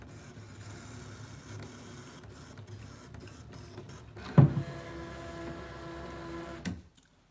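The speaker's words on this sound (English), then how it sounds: "I'm just going to move the machine back again a bit so I can unload the mat" A ScanNCut cutting machine runs with a steady mechanical whir, then gives a louder clunk and carries on with a tonal motor hum as it drives the mat out, stopping abruptly near the end.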